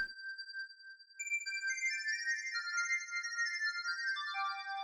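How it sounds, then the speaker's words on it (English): Synth triangle wave at unison 4, slightly detuned and pitched to the 6th harmonic, giving high, thin, chorused sustained tones that step through a melodic pattern, soft and steady with no voices. "the last sound down here is a triangle wave at unison 4. It's slightly detuned, and it's pitched to the 6th harmonic"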